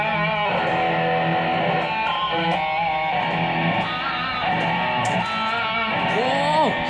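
Distorted electric guitar playing a run of notes and bends for several seconds, steady and fairly loud, ending in a rising slide, with no talk over it.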